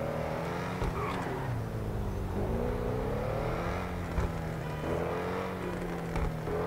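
An Audi R8 in GTA V growls through its exhaust, engine revving and easing in wavering rises and falls, loud and close, with occasional pops and a steady mechanical whir underneath.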